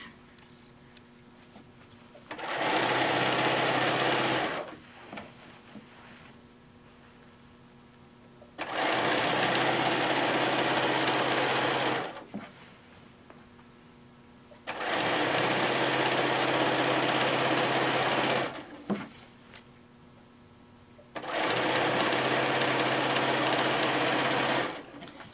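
A sewing machine stitches a quilt seam in four loud, steady runs of a few seconds each, with a fast, even whirring hum and short quiet pauses between runs.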